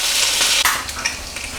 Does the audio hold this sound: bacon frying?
yes